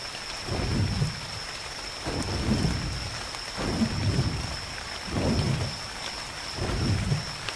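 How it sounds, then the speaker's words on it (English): Steady heavy rainfall in the video game Ark hisses without a break while low thunder rumbles roll in again and again at a regular pace, each swelling and fading, with no voices. "At least we were until it started raining."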